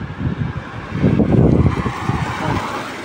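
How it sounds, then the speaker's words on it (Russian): Strong wind gusts buffet the outdoors at a bus stop in light drizzle, a low rumbling rush that swells in the middle and then eases, with no voices. "Ну и ветер такой достаточно приличный."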